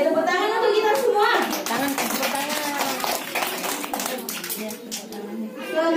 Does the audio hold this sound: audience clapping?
yes